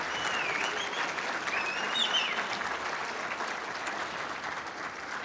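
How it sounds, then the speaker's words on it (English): Banquet audience at a softball hall of fame induction ceremony applauding the inductees, a continuous dense patter of many hands at moderate volume, with faint whistles or cheers rising briefly over it. "Could we have one more round of applause for all of our individual inductees this evening?"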